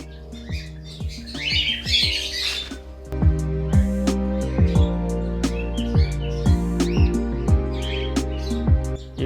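A caged cockatiel breeding pair squawks and chirps close by in repeated harsh calls with sharp falling notes, at times overlapping, continuous throughout.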